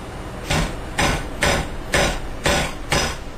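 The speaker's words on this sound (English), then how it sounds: "And then just hammer it in." Six sharp hammer taps drive a fret into a guitar fretboard at an even pace, each with a bright metallic ring, close and loud with no voices.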